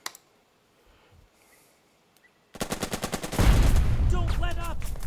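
Rapid machine-gun and rifle fire in the World War II strategy video game Burden of Command, starting abruptly after near silence and continuing as dense, loud bursts with a heavier impact layer joining partway through.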